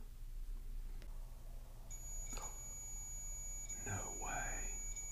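An alarm device set on a table emits a steady electronic beeping tone that starts partway through and holds, with a brief fluttering warble near the end, against a quiet indoor room hum.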